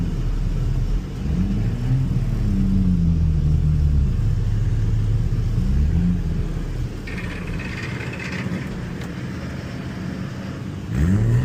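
A right-hand-drive Nissan Skyline with a stick shift is driven on the road. Steady engine rumble and road noise carry through, with the revs rising and falling across several gear changes, heard from inside the car.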